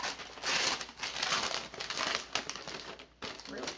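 Gift wrapping paper is torn open and crumpled up close, a busy run of crinkling and ripping bursts with a short pause near the end, and voices are faintly present.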